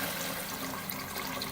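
Water pouring steadily into a pot of white lobia (black-eyed beans) for curry, about 1.5 litres, a continuous close splashing flow with no talk.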